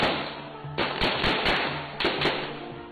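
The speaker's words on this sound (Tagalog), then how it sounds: "Maririnig din ang pagkakaputok ng baril ng mga pulis." Police gunfire during a violent rally dispersal in Kidapawan, heard as a burst of sharp, loud cracking shots in rapid clusters, with a second volley about a second later over a dense, noisy crowd background.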